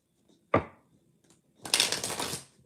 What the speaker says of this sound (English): Shuffling from Annalise.